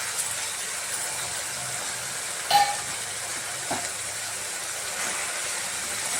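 Vegetables fry in a pan for a tarakari gojju, giving a steady, soft, broad sizzle and hiss throughout, with a couple of brief louder crackles.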